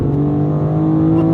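A 2026 BMW M2 CS under full throttle, its engine droning loud and steady from inside the cabin with a strong, even low-pitched tone throughout the short burst.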